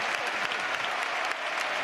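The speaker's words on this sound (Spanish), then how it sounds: "Ovación de gala para Sergio Ramos, caballero del fútbol" Stadium crowd at a Real Betis tribute match for Joaquín gives Sergio Ramos a dense, continuous ovation of loud applause filling the whole moment, with only faint voices mixed in.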